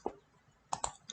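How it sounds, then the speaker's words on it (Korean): A computer mouse clicking on a download link: a crisp single click, then a quick pair of clicks and a fainter final one, close and quiet in a still room. "한번 클릭해 볼게요."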